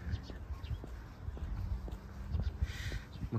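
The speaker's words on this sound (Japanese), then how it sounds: "いろんな鳥の鳴き声が聞こえる。" Crows caw and other birds call in the distance on a drizzly morning walk, faint and intermittent beneath footsteps and a person talking nearby.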